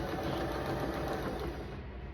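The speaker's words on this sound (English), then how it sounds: "I'm gonna take it to the sewing machine and I'm gonna sew 1/4-inch seam allowance down this one side of the square" A sewing machine runs continuously as it stitches a 1/4-inch seam through quilt fabric, giving a close, steady whirring hum with a fast needle rhythm that slows near the end.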